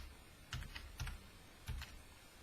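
Three short bursts of quiet keystrokes on a computer keyboard, clustered clicks spaced about half a second apart against a faint room hush.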